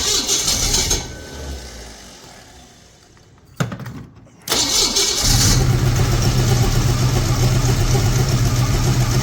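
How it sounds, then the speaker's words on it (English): An old engine on a restored vintage machine cranks and then catches after a single pump of the carburetor, settling into a loud, steady running rumble close by. "Literally one pump of the carburetor and she fires right up."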